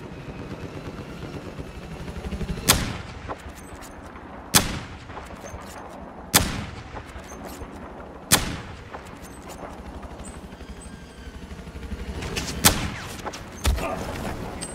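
Sharp, loud gunshots from the first-person shooter Battlefield 4, spaced single cracks with echoing tails, several heard over a low rumbling battlefield backdrop.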